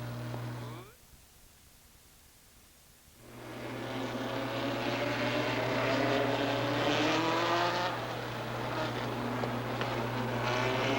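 Stock cars at Rockford Speedway in 1999 roar past after a brief lull, engines building into a loud, sustained, overlapping drone with shifting pitches, over a constant low hum.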